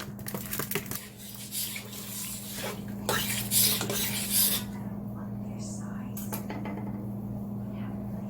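A spoon scrapes and stirs rice and peas in a metal cooking pot, giving a run of gritty rubbing strokes and clinks in the first half before they fade, over a steady low hum.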